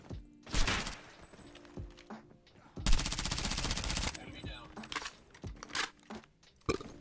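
Bursts of video game gunfire rattle out, with rapid automatic volleys and a long sustained stream of shots mixed with scattered single cracks and clatter, loud and close.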